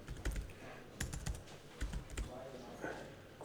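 Code is typed on a computer keyboard in quick, irregular bursts of close, light key clicks at a fairly quiet level.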